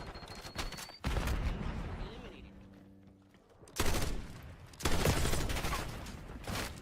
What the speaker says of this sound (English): you got hit with a shotgun